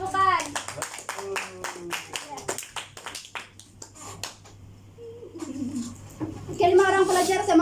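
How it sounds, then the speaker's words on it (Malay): Students in a classroom give a burst of rhythmic clapping, a series of sharp claps in quick succession, followed by children's voices and a teacher talking. "Berikan tepukan."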